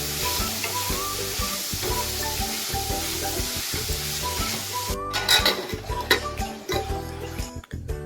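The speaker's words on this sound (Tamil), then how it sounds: "இப்போ சீவி வச்ச கேரட்டை இது கூட ஆட் பண்ணிவிட்டு அப்படியே கிளறி விட்டுருலாம்." Grated carrot sizzles and fries steadily in a pan while being stirred, with a loud continuous crackle and occasional scraping clinks of the utensil against the pan.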